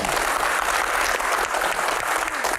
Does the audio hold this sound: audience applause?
yes